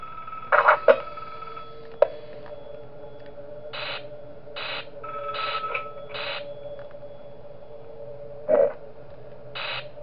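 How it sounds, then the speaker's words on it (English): An in-game phone rings in the horror game Five Nights At Wario's Rebooted 2: several evenly spaced electronic ring bursts, loud and close, with a few sharp clicks between them and no talking. "Muting the phone call since I already heard it."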